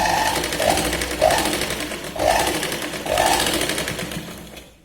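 A sewing machine stitches a Katori blouse, running in repeated bursts of fast, even whirring with brief slowdowns between them, close and fairly loud, then stopping near the end.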